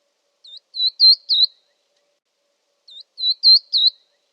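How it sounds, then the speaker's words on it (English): Verdin song: two bursts of four short, high whistled notes each, all at about the same pitch, separated by a pause of silence, clear and close. "The verdin sings 4 notes but keeps them all at roughly the same pitch."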